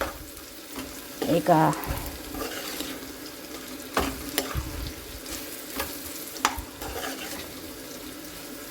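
Bitter gourd frying in oil in a pan gives a steady low sizzle with occasional stirring scrapes and clatters, a brief spoken word early on, moderately quiet and close.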